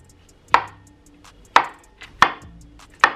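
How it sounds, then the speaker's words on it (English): A knife slicing mushrooms into thick pieces on a cutting board, four sharp, well-spaced chops with a lighter tap between, close and clear with no talking. "Now we're gonna cut the mushrooms. She said to cut these up in thick slices."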